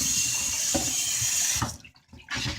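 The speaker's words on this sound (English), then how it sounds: "I'm going to just run some water and wash the grease out" Tap water runs steadily into a sink to rinse grease from a cooking pan, a continuous hissing splash that briefly dips and shifts as the stream is moved, then resumes.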